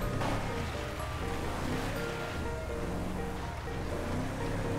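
Sea waves in a GTA roleplay video game, a steady, wash-like surf roar that stays loud and constant throughout with no clear break.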